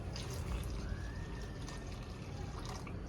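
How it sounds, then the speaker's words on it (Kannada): Water is poured into a pot for fish sambar in a home kitchen, a soft continuous splashing and trickling stream under a low background hum, faint and fairly close. "ಹಾಕಿ ನೀರು."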